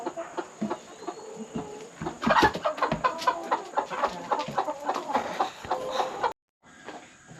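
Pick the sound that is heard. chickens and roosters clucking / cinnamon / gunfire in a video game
chickens and roosters clucking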